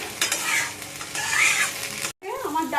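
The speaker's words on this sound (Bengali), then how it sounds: "তেলটা লোতে দিয়ে চালটা ভালো করে ভেজে নিচ্ছি" Rice frying in oil in a pan over a low flame while cooking khichuri, a steady close sizzle with stirring scrapes throughout, briefly cut off near the end before the sizzling resumes.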